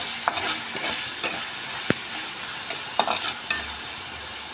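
Chopped onion fries with tempering spices for a lentil and pointed gourd curry, making a constant sizzle with a few sharp clicks of a utensil stirring the pan, close up with no voices.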